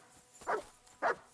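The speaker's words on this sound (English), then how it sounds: "Yes, dog, I hear you." A dog gives two short, fairly close barks about half a second apart, with no talking over them.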